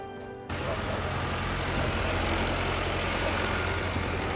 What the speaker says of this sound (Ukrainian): А ми з Сашем двома тракторами теж перевозимо